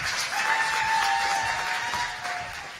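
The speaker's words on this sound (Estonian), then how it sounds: "Nii et teeme kõigile, ma arvan, ühe suure aplausi" Applause from an audience at a student Eurovision concert, a steady broad wash of clapping sustained throughout at moderate level, with a faint tonal hum running beneath it.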